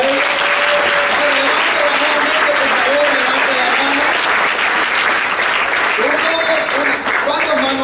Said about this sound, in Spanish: demos un aplauso fuerte al Señor por él.